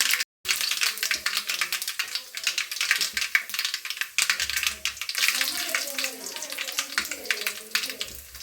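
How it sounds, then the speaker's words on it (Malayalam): Mustard seeds splutter in hot oil, giving dense bursts of sharp crackling pops that rise and fall irregularly, with a voice talking faintly underneath. "കടുക് പൊട്ടി തുടങ്ങിയിട്ടിരിക്കുന്നത്"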